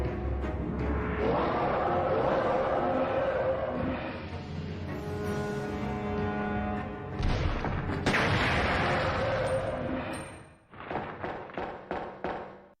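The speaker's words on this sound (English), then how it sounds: "Your only hope is a lone valve that you can shoot, causing an explosion in its mouth" Video game explosion set off by shooting a valve inside a monster's mouth, a dense booming blast with thuds and rumble amid game sound effects, then a burst of sharp rapid impacts near the end.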